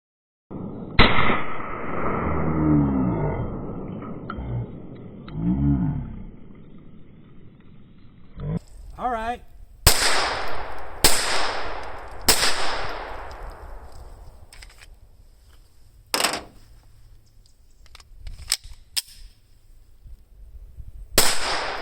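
Sharp, loud gunshots from a Taurus TX22 .22 pistol firing at cans outdoors, several single reports spaced a second or two apart with ringing decay, following a stretch of other noise.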